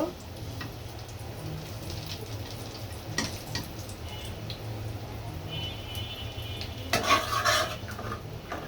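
A cooking pot is set on a stove for hilsa fish, with light metallic clinks and scraping over a low steady hum and faint sizzle, and a brief louder clatter near the end.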